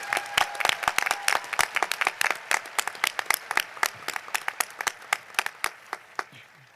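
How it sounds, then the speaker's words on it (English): An audience at the Roanoke College commencement for the Class of 2026 claps steadily, a full round of applause from a crowd that thins slightly toward the end, with no voices over it. "Let's please give one more round of applause for this group of outstanding students."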